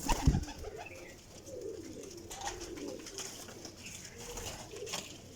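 A flying pigeon coos in low repeated phrases close by, with a short sharp knock near the start and steady bird chatter from nearby pigeons behind it.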